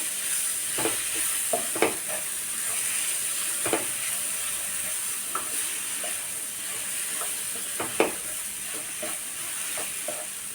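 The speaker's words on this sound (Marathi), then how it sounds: "छान परतून घ्यायचा आहे आपल्याला" A raw mango chutney mixture is stirred and sautéed in a pan, with a soft steady sizzle and repeated scraping clicks of the spoon against the pan, heard close and fairly quiet.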